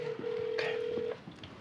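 A telephone number is dialed on a phone: a steady electronic tone holds for about a second, then a few short clicks and beeps follow, fairly close and clear, with no talking.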